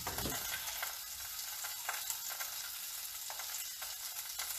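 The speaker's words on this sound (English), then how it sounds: "the lamb chops have settled down a little bit, because they were making a whole lot of noise" Lamb chops frying in a very hot, smoking pan, giving a steady, dense sizzle and crackle throughout, close and fairly loud, with no talking.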